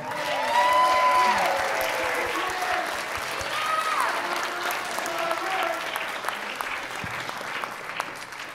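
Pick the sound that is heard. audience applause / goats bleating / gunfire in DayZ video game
audience applause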